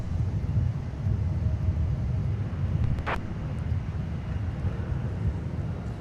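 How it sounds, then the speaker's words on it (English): A Delta flagship airliner departs for Amsterdam from Minneapolis–Saint Paul airport, heard as a steady low engine rumble in the distance, mixed with wind buffeting the microphone. A short sharp click sounds near the middle. "So you have joined just in time to catch our Delta flagship departing to AMS."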